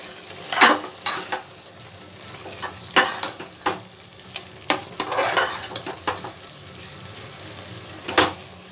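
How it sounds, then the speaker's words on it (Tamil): Mint and coriander paste stirred into tomatoes frying in a pan for mushroom biryani, bursts of spoon scraping and clatter over a steady close sizzle. "புதினா அண்ட் கொத்தமல்லி பேஸ்ட் போட்டதால் அதை போட்டு கலக்கிக்கலாம்."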